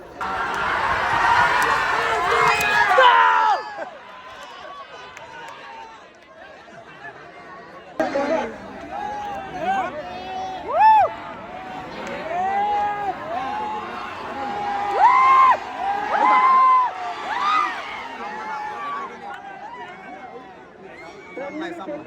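A large crowd chatters and shouts at a bullock cart race meet, with a loud burst of cheering at the start, then quieter murmuring babble and occasional nearby voices and whoops.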